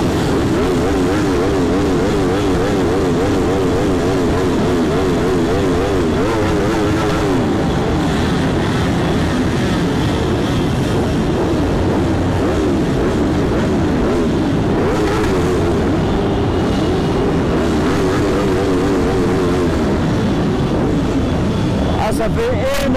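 Loud, dense engine roar from many motorcycles at a motorbike rally demonstration in Clermont-Ferrand, with revving swells and one bike doing a burnout; voices talk over the steady din.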